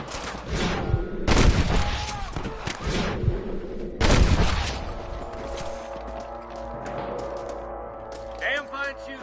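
Gunfire in the video game Red Dead Redemption Remastered, with several loud bursts of shots and crashing impacts early on, then fading mechanical clatter, mixed with in-game voices talking.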